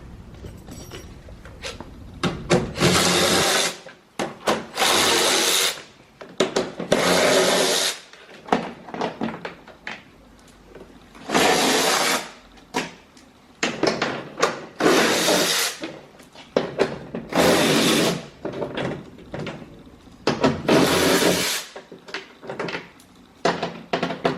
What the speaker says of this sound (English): And then we have 10 bolts to go around and remove.